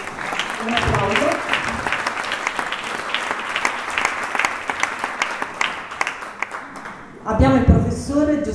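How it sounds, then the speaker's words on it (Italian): An audience claps steadily for several seconds, a broad patter of many hands that fades as a voice begins speaking. "Gaetano Pascale, per cui farei un applauso."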